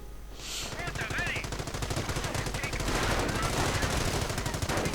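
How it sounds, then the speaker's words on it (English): Rapid machine-gun bursts and sniper shots ring out in a World War II real-time strategy game, a dense continuous barrage of rattling gunfire filling the whole span, with a brief whistling effect early on. "MG cleared out by sniper fire."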